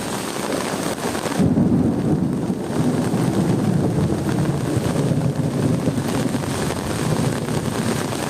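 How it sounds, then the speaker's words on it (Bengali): Heavy rainstorm with thunder: a continuous loud roar of rain and wind with deep rumbling underneath, close and unbroken throughout. "বজ্রপাত বজ্রপাত"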